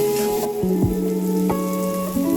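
Spice masala with sugar frying in a pan, a steady sizzle and crackle with scattered pops, close and constant under a faint background hum and no voices.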